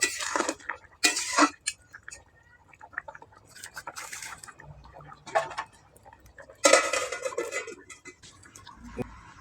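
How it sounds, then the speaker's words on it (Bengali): Fish curry cooked with a little ground cumin being stirred in a pan, then covered with a lid: close scraping and clinking of utensil against metal in bursts, with a louder clatter near the end as the lid goes on. "কিছুক্ষণ নেড়ে একটুখানি ঢাকা দিয়ে দেবো"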